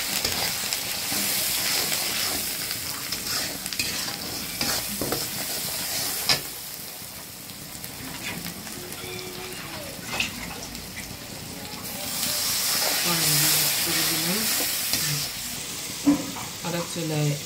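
Prawns sizzle and hiss in hot oil as ginger garlic paste, salt, turmeric and chili are stirred in, steady frying noise with scraping stirs and bursts of steam while someone talks over it.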